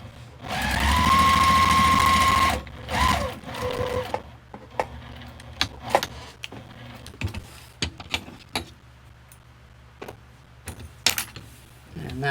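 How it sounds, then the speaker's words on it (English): A sewing machine runs steadily at close range for a couple of seconds while quilting down a scrappy tote bag panel, then stops briefly and starts again, followed by scattered clicks and fabric handling. "I'm just going to quilt that down."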